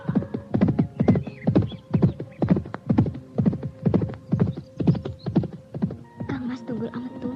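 Horses carrying mounted archers gallop in a steady, rapid clip-clop of hooves, close and prominent. The hoofbeats fade into a low rumble near the end.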